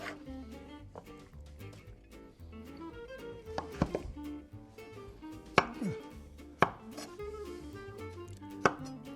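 A knife chops eggplant across on a cutting board, giving sharp, irregular knocks close by over a soft, steady background hum.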